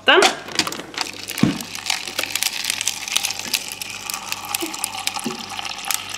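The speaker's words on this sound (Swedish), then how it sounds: "Det är inte snabbast kranen, men det är kallt i alla fall." Cold water from a slow tap running into a cup in a Rusta store, a steady close trickle and splash mixed with crinkling and clattering handling noises, with a loud knock near the start.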